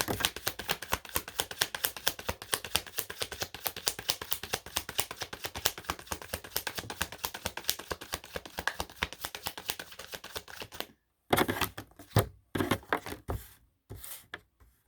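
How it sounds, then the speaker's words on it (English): Tarot cards shuffled by hand, a dense run of rapid papery riffling clicks for about eleven seconds, then a few separate short snaps and taps, close and quiet with no voices. "Three shuffles."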